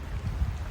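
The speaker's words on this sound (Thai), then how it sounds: "ฝนตกฝนตก" Rain falls steadily in a park as a soft, even patter. The burst is very short and fairly faint, with no voices.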